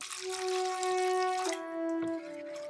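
Water is poured from close by into a rice-flour and maida batter for patishapta, giving a steady trickling, slightly ringing stream that runs continuously before tapering off.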